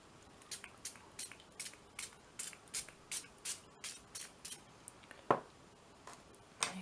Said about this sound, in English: Little spray.